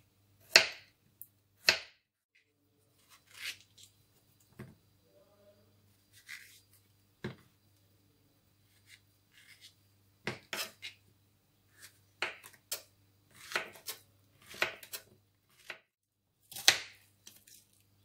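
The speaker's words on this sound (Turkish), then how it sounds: "Önce malzemelerimi doğruyorum." Potatoes, zucchini, carrots and onion being chopped with a knife on a board, heard as scattered close taps and knocks in irregular bursts separated by quiet gaps, with no talking.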